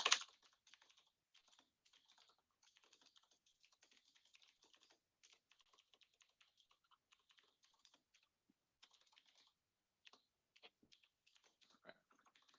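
Quick, irregular typing on a computer keyboard while entering a database query, with bursts of light key clicks and brief pauses, close and fairly quiet, no voices.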